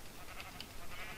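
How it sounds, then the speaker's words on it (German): Sheep in the Minecraft video game bleat in faint, muffled bursts under a steady game background, with no speech. "Also muss ich natürlich schon wieder mit der Hand Schafe töten."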